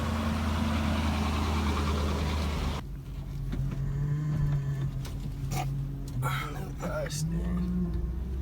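A Chevrolet Silverado engine with rod knock revs hard in a loud, rough roar, then drops to a lower, uneven rumbling idle with faint clattering while people talk over it outdoors.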